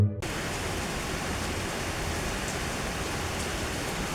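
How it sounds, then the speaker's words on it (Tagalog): Steady, dense roar of heavy rain pouring down, a continuous loud wash of water with no pauses and no voices. "Ay, bigla na lang lumakas ang ulan."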